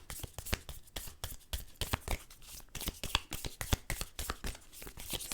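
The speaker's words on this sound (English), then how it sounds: "they want me to shuffle, so I will shuffle" An oracle card deck is shuffled by hand in a tarot-style reading, giving rapid, crisp riffling and flicking bursts in quick succession, close and fairly quiet, with no talking.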